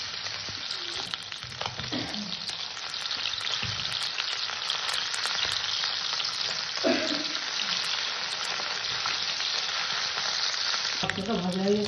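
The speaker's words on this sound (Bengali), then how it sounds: "তেলটা গরম হয়ে গেছে, আমি মাছ ছেড়ে দিলাম।" Tangra fish frying in hot mustard oil in a kadai gives a loud, steady sizzle from start to finish, with spatter bursts where pieces are stirred or turned and a sharp splash near the end.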